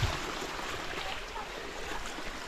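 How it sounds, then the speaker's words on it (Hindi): A cold, clear stream runs alongside a mountain path, giving a steady, even rush of flowing water with no talking. "ये देखो भाई पूरे रास्ते में नाला ही नाला है और पानी बहुत ज़्यादा ठंडा है।"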